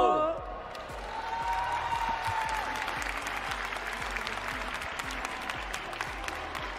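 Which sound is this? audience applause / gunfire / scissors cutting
audience applause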